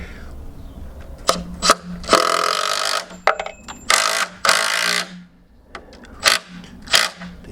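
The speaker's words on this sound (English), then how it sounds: "then we get our impact wrench and then just drive them in" An impact wrench driving concrete screws into a dwarf garage wall, several short loud whirring bursts of varying length with gaps between, close by, no speech.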